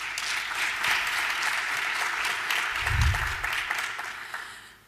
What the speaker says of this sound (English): You have to clap your hand for these students.